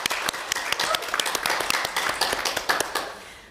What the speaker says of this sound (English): I also want to have some applause for our speakers.